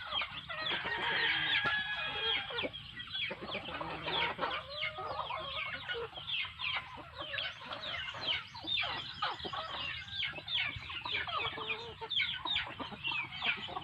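Native Filipino chickens cluck steadily in a busy chorus, with a rooster crowing near the start; the birds sound close and fairly loud, with no talking.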